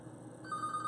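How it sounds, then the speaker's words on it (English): A telephone rings in a morning sports radio studio, a steady electronic ring starting partway through, fairly close and clear with no talk over it. "Oh, we got a phone call."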